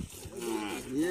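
A cow on a farm near the India–Bangladesh border gives a single short, close moo, a low drawn-out tone that bends upward at the end, heard alone.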